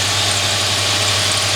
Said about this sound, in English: Hear that engine purr.